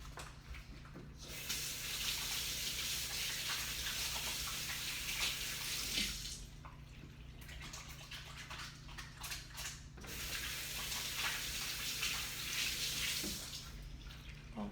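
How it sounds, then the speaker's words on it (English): Hands washed under a running kitchen tap: a steady, close rush of water in two long stretches, with a short pause between them when the flow changes. "For me, I'm gonna wash my hands and I'll be right back."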